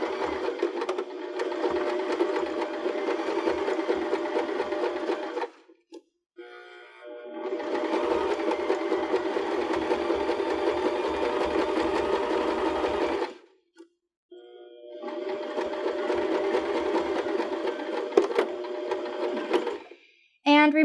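A BL9 sewing machine fitted with an open toe foot stitches trim onto a cork strap purse, running in three long steady whirring bursts with brief quiet pauses and faint clicks between them.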